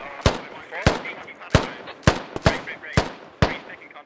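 Gunfire in the tactical shooter game Squad: seven sharp, loud single shots spaced roughly half a second apart, each ending in a short decay, with a voice talking faintly between the shots.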